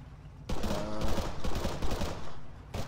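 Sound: gunfire from a video game, shooting in Stratis

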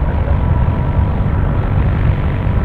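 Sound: SR-22 airplane at Tampa airport

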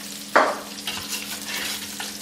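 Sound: food frying in a stainless steel pan

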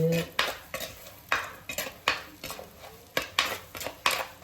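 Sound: stirring fennel seeds and spices in oil in a pan

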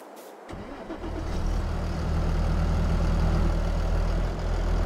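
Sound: tractor engine in Farming Simulator 22 video game

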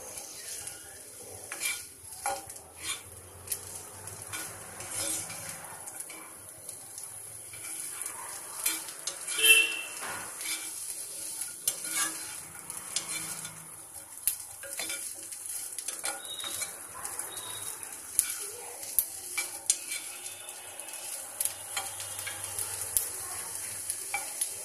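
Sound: sautéing capsicum and vegetables in a pan

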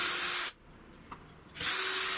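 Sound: drilling a hole through a wooden watch strap

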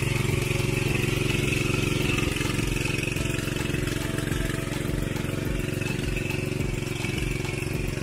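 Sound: Firman FTL 500H tiller engine running at demo

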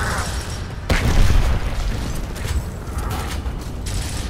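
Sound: grenade explosion in the video game Gears of War

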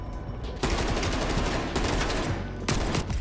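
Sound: gunfire from a gun in the video game Call of Duty: Cold War

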